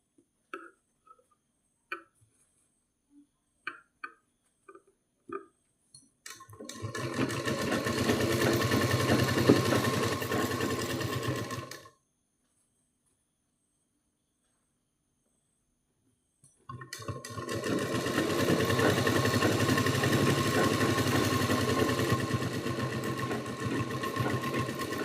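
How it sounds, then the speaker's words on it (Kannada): A sewing machine stitches a blouse along a drawn line in two loud, steady runs of several seconds each, separated by a silent pause, with a few soft clicks of handling before the first run. "ಈಚೆ ಸೈಡಲ್ಲಿ ಕೂಡ ಅದೇ ರೀತಿ ನೇರವಾಗಿ ಗೆರೆ ಹಾಕಿರೋದ್ರ ಮೇಲೆ ಸ್ಟಿಚ್ ಮಾಡ್ತಾ ಹೋಗಬೇಕು"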